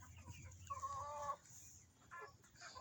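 A chicken in a backyard flock gives one short, moderately close burst of clucking in the middle. A faint low rumble and scattered soft background bird sounds continue around it.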